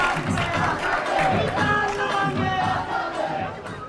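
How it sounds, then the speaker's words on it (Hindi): Loud crowd noise of applause and cheering fills the hall as a politician, Kanhaiya Kumar, is welcomed onto a stage for an interview before the 2024 Lok Sabha election, with shouts and voices mixed into the sustained roar. "जोरदार तालियां एक बार फिर से"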